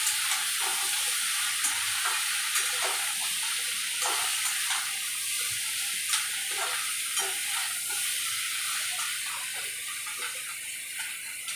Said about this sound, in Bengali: এবার এটাকে ভালো করে কষে নেব।